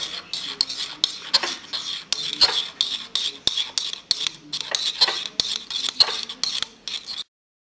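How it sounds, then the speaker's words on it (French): A utensil stirring a mixture of salt water, onion and dish soap, a steady series of close, scraping clinks and swishes against the container at a regular rhythm, with no voices. "Et donc, on mélange."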